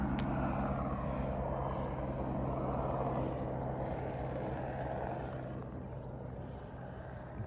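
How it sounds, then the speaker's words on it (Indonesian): A helicopter passes over wet vineyard land near Auckland, heard as a steady low rotor drone that fades slightly toward the end. "Ada helikopter."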